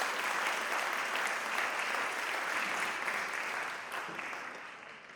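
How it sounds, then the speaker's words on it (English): An audience at a classical Indian dance recital claps warmly, a full, continuous round of applause that stays even for a few seconds before tapering off slightly toward the end. "Please join me in extending a hearty round of applause for Sri Suresh Kodandaraman's tireless efforts."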